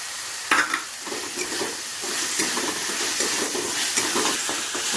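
A spice mixture with chopped green chillies sizzles in a pan for potol korma while it is stirred, giving a close, continuous frying hiss with scraping stir strokes and no talk.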